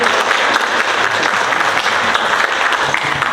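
An audience applauds at a public forum on drinking-water challenges: dense, loud, continuous clapping from many hands, sustained evenly throughout without talk.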